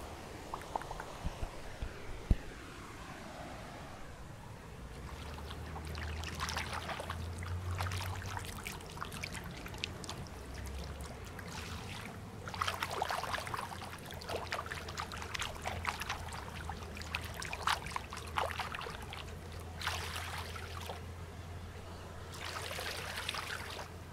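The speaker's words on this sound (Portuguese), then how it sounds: "Vamos fazer um pouco de sons de água aqui pra vocês." Water trickling and splashing outdoors on a street, played for ASMR, soft intermittent dribbles and pours over a low background hum, fairly faint and close.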